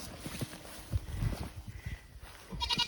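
A goat bleats briefly amid rustling and handling noises, with a higher-pitched bleat near the end; close by, no speech.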